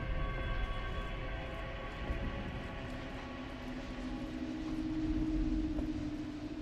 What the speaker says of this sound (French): un hélicoptère en bas.